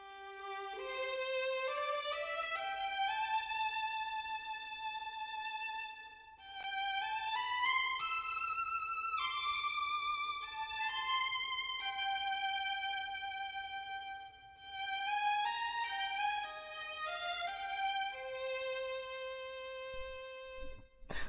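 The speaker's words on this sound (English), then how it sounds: "So the violin sounds like this." A solo violin sample from Orchestral Tools Berlin Orchestra Inspire 2 plays a slow, expressive melody with smooth sustained notes, clean and alone.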